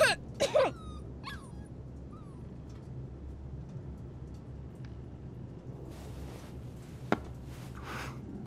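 A puppy in the video game Life is Strange 2 gives a few short, high whimpers and yips close by at the start, then falls quiet over soft, steady background ambience.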